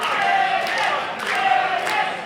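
A pro wrestling crowd cheers and chants in rising, swelling waves for Kaiden Koyama, a steady roar of many voices filling the arena.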